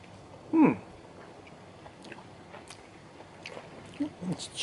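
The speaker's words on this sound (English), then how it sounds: "Just chew the whole thing" Someone chews a chewy food in a remote North American settlement, with soft, moist chewing and biting sounds close by, one louder bite early on, and voices talking quietly in the background.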